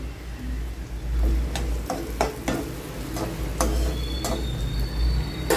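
Onions stirred with salt in a cooking pan, soft sizzling under a string of scraping and ticking spoon strokes, close and fairly quiet.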